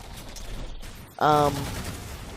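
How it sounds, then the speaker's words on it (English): Gunfire in Halo 4 multiplayer gameplay: a short, loud burst of rapid shots cutting in over steady game background noise, with no speech during the burst. "the guns do sound brutal"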